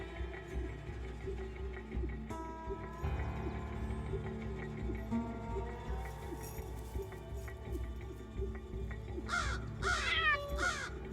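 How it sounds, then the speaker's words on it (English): Crows giving harsh warning caws, several raspy calls spaced through a quiet outdoor scene, with a louder burst of repeated caws near the end. "Crows have different warning calls"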